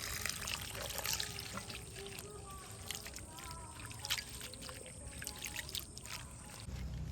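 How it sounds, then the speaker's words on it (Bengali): Tulsi leaves washed by hand in a bowl of water, with soft continuous sloshing, swishing and trickling up close at low volume. "এবারে ভালো করে 2 থেকে 3 বার জল চেঞ্জ করে করে পাতাগুলো পরিষ্কার করে নেব।"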